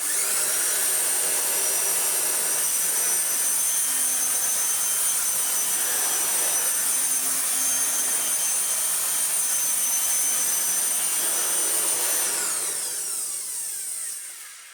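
A restored and repaired Dirt Devil Broomy BroomVac stick vacuum cleaner runs with a steady high-pitched motor whine and airflow roar, then winds down and fades near the end.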